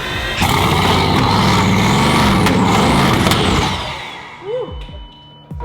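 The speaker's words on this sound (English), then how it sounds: "I can rev the engine." A flood-damaged Bugatti Veyron engine being revved, a loud sustained roar holding steady for about four seconds before dropping away, followed by faint whirring and brief voices talking nearby.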